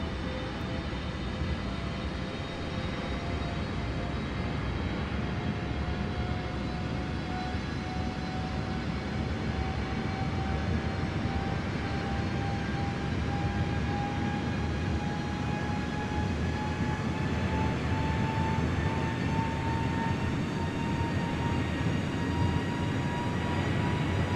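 An airliner's jet engines during the climb in Microsoft Flight Simulator, heard from outside the aircraft: a constant broad roaring rush with a faint whine that slowly rises in pitch, steady and unbroken for the whole stretch.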